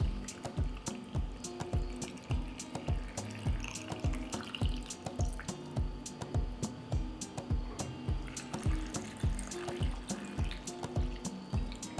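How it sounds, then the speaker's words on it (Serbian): Tap water runs into glass jars already holding grapes, a continuous splashing stream over a steady series of regular low thumps, fairly quiet and with no voices. "Pa ću tegle napuniti sa vodom."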